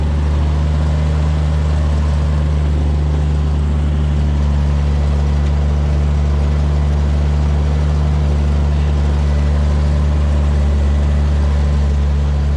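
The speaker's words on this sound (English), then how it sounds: "Yes, it has an exhaust leak, so I know." A 1981 Chevrolet squarebody truck idles steadily with a low, even engine drone and an exhaust leak, close and continuous for the whole stretch with no voices.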